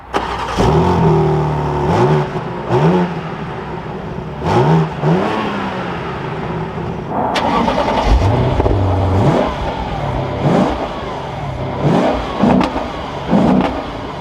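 A BMW M4 Competition or Lexus RC F Fuji Edition engine revs repeatedly, rising to loud roaring peaks and dropping back to idle, close by and with no talking.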